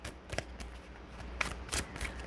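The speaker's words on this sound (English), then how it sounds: "I'm going to put these cards back in a shuffle" A deck of cards is shuffled in several quick riffling bursts, crisp and close, with short pauses between them.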